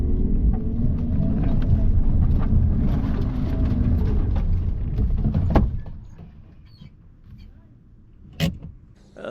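A Suzuki Jimny 4x4 engine strains loudly as it climbs a sandy slope, then the roar drops away abruptly, leaving quieter idling and a few sharp knocks.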